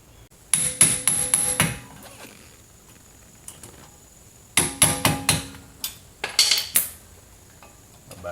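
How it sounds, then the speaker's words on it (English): Manual impact driver, fitted with a screwdriver bit through stacked socket adapters, struck with a hammer to loosen brake rotor screws on a 2010 Honda Civic: two close bursts of sharp metallic blows, several quick strikes each, near and loud with a pause between. "I like this little impact driver"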